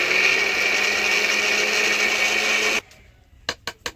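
Watermelon chunks whirring in an electric mixer grinder for ice cream, a loud steady motor drone that cuts off abruptly after about three seconds, followed by three sharp knocks.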